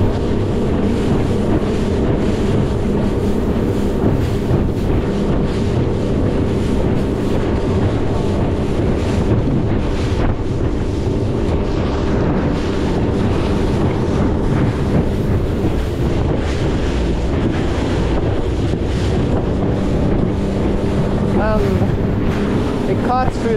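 A Highfield Sport 390 RIB inflatable boat pounds through choppy, bumpy water with steady engine drone, hull slap and heavy wind buffeting the microphone throughout.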